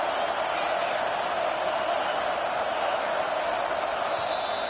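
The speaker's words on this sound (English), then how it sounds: "Decibels rising as the crowd gets behind this defense on third down" A football stadium crowd roars for the defense on third down in a Texas game, a steady, dense wash of cheering and noise that holds at full volume throughout without letting up.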